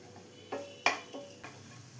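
Cashew nuts and raisins frying in ghee in a pan, with a faint background sizzle broken by a few sharp clicks and scrapes of a spoon stirring against the pan, quiet and close.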